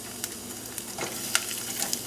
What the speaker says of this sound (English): Get that sizzling.